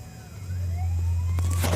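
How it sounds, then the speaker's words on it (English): An emergency vehicle siren rises faintly in the distance over the low steady rumble of a truck carrying sheet steel, the wailing tone sweeping upward across a couple of seconds. "I hear a siren."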